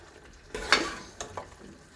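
Kootu curry being stirred in a pan, a few distinct spoon scrapes and stirs over a faint background, close and moderately loud, without any voices.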